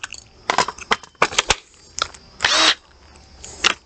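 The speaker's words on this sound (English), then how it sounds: "This is where we use our hole saw." Hole saw boring a hole while building a homemade solar generator, heard as short bursts of close, loud drilling and grinding, separated by brief pauses and knocks.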